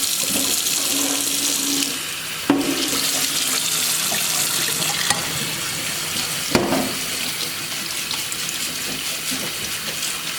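Cold water running steadily from a kitchen tap while cooking a herring salad, a continuous close splashing stream with a couple of brief clunks as things are moved under it.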